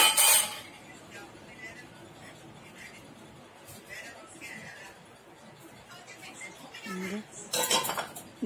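Dishes and metal utensils clatter and clink as a household kitchen is tidied, with scattered knocks through the middle and a busier burst of clanking near the end, under faint background voices.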